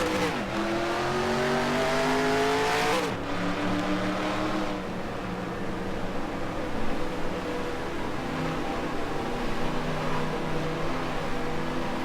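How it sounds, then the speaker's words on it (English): Sprint cars race on the Texas Speedway dirt track in the NR2003 racing sim, engines wailing and droning as several cars rev and pass, with pitch shifts as they shift or close in and out, continuous and fairly loud. "Sprint cars are racing at Texas Speedway dirt track."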